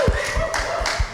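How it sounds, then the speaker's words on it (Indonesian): A few people clapping at a casual Indonesian talk show, about four quick separate claps close by with a voice running underneath. "Tepuk tangan dong buat mereka berdua sama-sama pantai."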